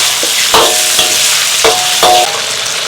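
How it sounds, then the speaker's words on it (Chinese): Doubanjiang bean paste stir-fries in hot oil with scallion, ginger and garlic, a loud crackling sizzle broken by several sharp scraping strokes of a spatula. "锅中再次加入食用油，葱姜蒜爆香，来一条豆瓣酱"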